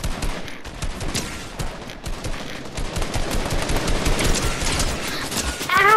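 Rapid automatic gunfire in Fortnite, dense bursts of sharp cracks crowding one another at a loud, steady level for several seconds with no pause.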